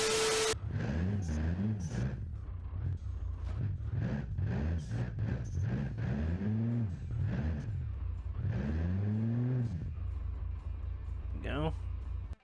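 The engine of a 1958 Chevy Apache tow truck in the BeamNG.drive video game revs and surges in repeated rising and falling swells, loud and up close. Someone talks over it throughout.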